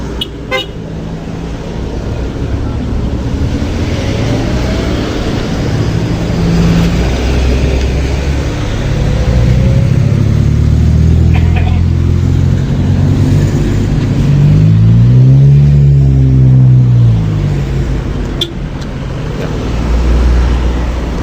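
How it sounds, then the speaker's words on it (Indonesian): Steady traffic rolls along the Solo–Jogja toll road near the Klaten–Prambanan segment on a busy morning, a continuous roar of passing cars with one clear horn toot midway, loud and close. "Terpantau cukup ramai juga kendaraan yang melintas pada pagi hari ini."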